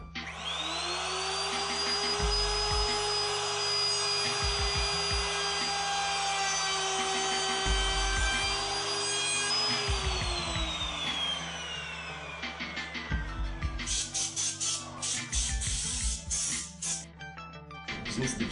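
A router cuts dovetail tails in wood on a dovetail jig, its high motor whine running steadily with the bit grinding through the board in passes, then winding down at the end.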